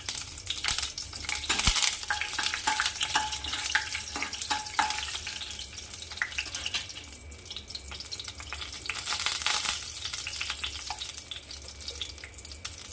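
Masala rice ingredients stirred together in a hot pan, with loud close frying hiss and rapid scraping of a spatula in bursts, the sizzle swelling and easing over several seconds, with no voices.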